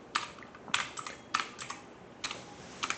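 Keys clatter on a computer keyboard in quick, uneven clusters of taps, close and fairly quiet, with brief pauses between bursts and no voices.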